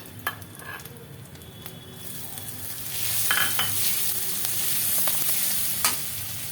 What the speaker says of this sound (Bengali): এবার কাঁচা লঙ্কা কুচিগুলো দিয়ে দেবো